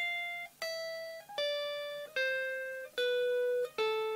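Guitar notes picked one at a time in a slow descending sequence, about six clean sustained tones with distinct attacks, alone and fairly close.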